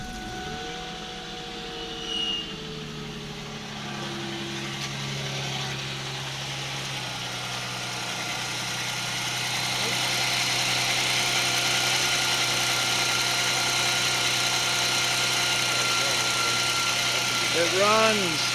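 A Ford Mustang that sat unused for eight years cranks and catches, then settles into a steady, loud idle that holds on with a low droning rumble, with a voice speaking briefly near the start.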